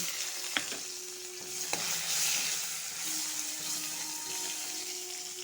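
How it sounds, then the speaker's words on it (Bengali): Onion fries in oil with bay leaves, a constant sizzle heard up close with a couple of sharp clicks from stirring and no speech. "দুইটা তেজপাতা দিব সাথে একটু পেঁয়াজ ভেজে নিব"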